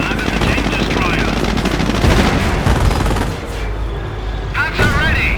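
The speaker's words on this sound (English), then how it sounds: "Enemy tank firing!" Tank guns and small arms firing in the World War II strategy game Company of Heroes, set during Operation Market Garden: a dense, loud, continuous roar of gunfire and explosions, with brief voice callouts mixed in.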